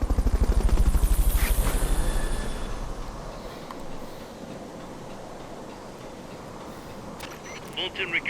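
Helicopter rotor chop pulses loudly and rhythmically during a Fulton recovery in Metal Gear Solid: Peace Walker, then fades into a softer rumble with a few clicks near the end.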